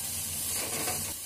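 Steady sizzling of onions sautéing in hot oil, a continuous close hiss with faint stirring, no voices.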